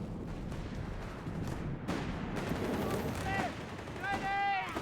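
Company of Heroes 3 battle with a Stuka barrage pounding a machine gun nest: rumbling explosions and scattered gunfire over a continuous din, with a voice talking over the action.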